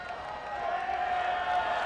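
A stadium crowd at a Forward Madison FC versus South Georgia Tormenta FC soccer match applauds and murmurs after a player gets back on his feet, a broad, distant wash of clapping that swells slightly.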